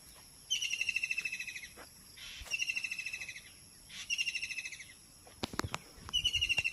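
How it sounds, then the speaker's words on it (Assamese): Several species of birds call near Jorhat, Assam: repeated high trilling bursts in four spaced phrases, mixed with a few sharp separate chirps, fairly faint in a quiet setting with nobody talking. "10টা প্ৰজাতিমানৰ চৰাই মাত শুনিব একদম।"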